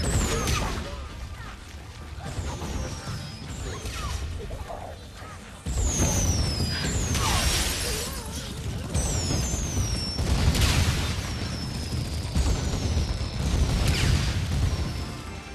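Fireworks handed out as a prize in the video game Zombies in Spaceland, bursting in loud crackling pops and whistles across the clip while a voice talks throughout.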